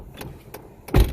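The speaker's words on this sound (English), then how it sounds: "Closing doors." A car door slamming shut on a 2004 Pontiac Sunfire, one solid close-range thump near the end after a couple of faint clicks and rustles.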